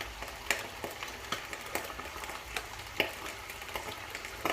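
Beef browning in a pot sizzles with a steady crackling hiss, punctuated by regular soft pops and stirring clicks, close and fairly quiet.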